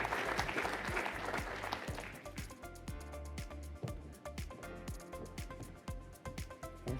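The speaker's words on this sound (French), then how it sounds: "Vous pouvez applaudir." Loud, sustained applause from a crowd, thinning gradually into scattered claps with a few rhythmic beats underneath.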